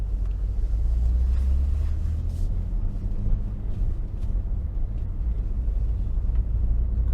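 A Saab 9-3 Turbo X, still cold, driving along with a steady low engine rumble heard from inside the cabin, moderate in level and without any talking.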